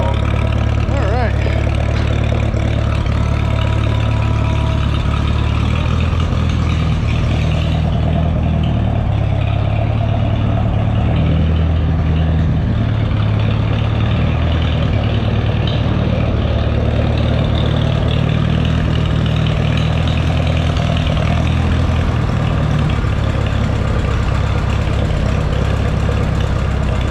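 MM Jet Star 3 Super tractor engine idling, a loud, steady low rumble with a faint knock running throughout, with a voice talking over it.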